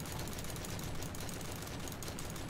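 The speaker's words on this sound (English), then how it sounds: "And this is the RSAS that shoots really fast." An RSAS rifle firing rapidly in a video game, a dense, continuous stream of shots at a steady, fast rhythm, loud and close with no pauses.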